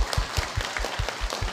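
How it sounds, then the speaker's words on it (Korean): A crowd at a Korean lawmaker's year-end constituency report meeting claps together in a steady rhythm, about five strong beats per second, moderately loud and close, with no speech over it. "뭐 이럴 때 박수 한번 안 쳐주시죠."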